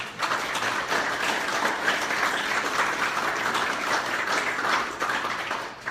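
Audience applause at a Green Party event in Portland, Connecticut, steady sustained clapping from a sizeable crowd throughout, fairly close and even in loudness.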